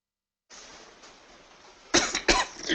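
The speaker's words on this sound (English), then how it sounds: "I still have a little bit of my cough left over." A person coughs twice in quick, harsh bursts after a stretch of quiet room tone, close to the microphone.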